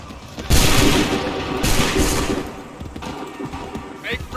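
Musket volleys crack out in an Assassin's Creed III battle, two big bursts of massed gunfire near the start and mid-clip with scattered shots trailing off, while commanders shout orders.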